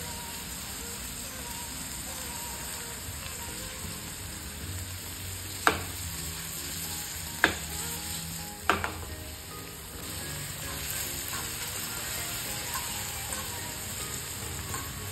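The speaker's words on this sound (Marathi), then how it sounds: "आता हे टोमॅटो आपल्याला हाफ शिजवून घ्यायचे आहेत।" Tomatoes cooking in a pan for Maggi noodles, with a constant bubbling sizzle and a few sharp utensil clacks against the pan partway through.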